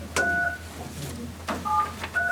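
Touch-tone telephone keypad tones beep in two short bursts of paired pitches during a county commissioners' work session, heard over a low room hum with no speech.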